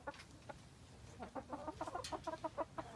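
Rescued backyard hens cluck in a quick, uneven run of short calls, close by and fairly loud, with no talking over them.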